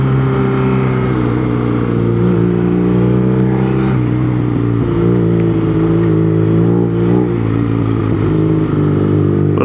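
A BMW motorcycle engine revs and accelerates continuously, its pitch rising and falling through gear changes, loud and close.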